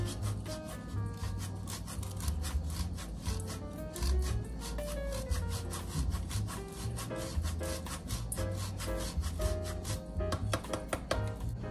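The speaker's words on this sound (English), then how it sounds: "I'm going to grate in a few tablespoons of Parmesan cheese." A block of Parmesan cheese is grated by hand for chicken boats, giving a steady run of quick, dry rasping strokes close up and fairly soft, with no talk.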